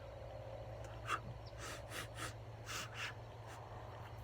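A series of short, sharp nasal sniffs of McChrystal's Star Gazer nasal snuff in quick succession over a low background hum, fairly quiet and close.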